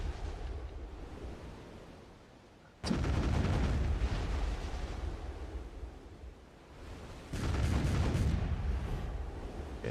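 A pirate fleet in a boating video game fires on the player's boat, sending two heavy booming cannon blasts that burst in loud and roll into long rumbling noise, with quieter wash between them.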